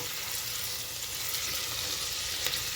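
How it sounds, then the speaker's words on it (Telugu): Bay leaf, mace and stone flower fry in oil for a mutton gravy curry, giving a steady, fairly quiet close sizzle with faint crackles throughout. "ఓన్లీ బగారాకు, ఈ జాపత్రి, తర్వాత స్టోన్ ఫ్లవర్ మాత్రమే ఇప్పుడు వేస్తున్నాను."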